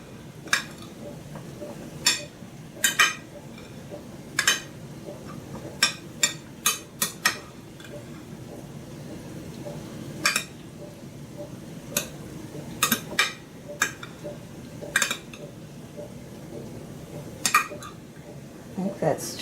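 Beef and pork spring roll filling is mixed in a bowl, with sharp irregular clinks and taps of a utensil against the bowl over a quiet background, a soft voice faintly underneath.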